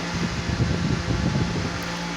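A battery-powered electric fan runs at high speed, giving off a steady, close, loud whoosh of rushing air with a low motor hum underneath, alone and unbroken throughout.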